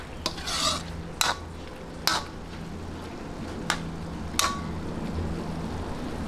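Ingredients for Filipino lomi are sautéed in a pan: several sharp spatula scrapes and clanks at irregular intervals over a low, steady sizzle, close by.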